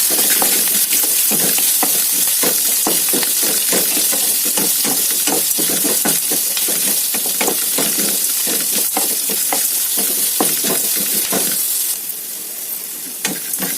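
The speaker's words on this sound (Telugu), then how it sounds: "దోరగా వేసేస్తున్నాం" Curry leaves, about five sprigs, fry in a hot pan with a loud, steady sizzle and crackle, punctuated by frequent rhythmic stirring scrapes that soften in the last seconds.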